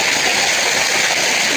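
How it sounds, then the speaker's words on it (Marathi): A large fountain in the Sant Dnyaneshwar garden at Paithan splashes nearby, making a loud, continuous rushing wash of falling water. "हे बघा इथे खूप मोठं फाउंटेन आहे"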